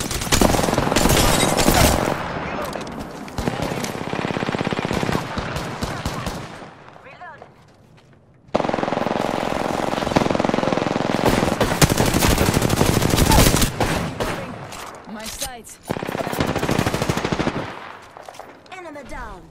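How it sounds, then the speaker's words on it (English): Rapid, loud machine gun fire in a shooter game featuring the character Bangalore, sustained bursts broken by a brief pause midway before the shooting resumes at full intensity. "Reloading."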